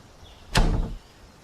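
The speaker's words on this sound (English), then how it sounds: "Let's try to close the door with my hand in here" A door swings shut in the VR game Geronimo VR, one brief thud with a short scraping tail at mid-level loudness, alone without talk.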